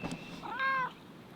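A male house cat gives a single short meow close by, a brief rising-and-falling cry in a quiet room.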